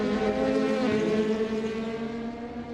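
DTM race car engines in the racing game Assetto Corsa, heard as an on-board drone that holds a steady, buzzing high-revving tone throughout, loud and unbroken, with no voices.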